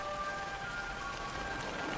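The first monsoon rains fall steadily on a tropical island forest in a dense, even hiss that holds at a constant level with no breaks and no voices.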